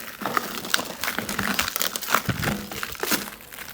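Plastic shrink wrap crinkling and crackling as it is pulled off a newly unboxed Quick Mill Anita Evo espresso machine, close and continuous with sharp rustling bursts.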